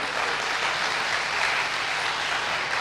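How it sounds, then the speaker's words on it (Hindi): A spiritual talk audience claps steadily throughout, a dense broadband patter of many hands filling the hall at even loudness with no voices over it. "अब ताली भाइयों ने बजाई या बहनों ने?"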